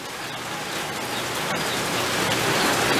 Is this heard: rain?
yes